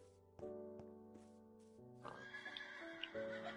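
A horse neighing in the video game Minecraft: a whinnying call with a clear pitched tone, followed by a second busier stretch of horse sounds and light clip-clop, fairly quiet and close.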